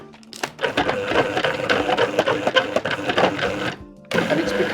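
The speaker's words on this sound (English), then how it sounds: "Just let it blitz that for a minute. Let it really work that in. Again, pulse the mixer if you need to." Food processor blitzing keto low-carb sweet shortcrust pastry dough, a steady loud whirring churn running continuously, briefly cut off near the end before starting again.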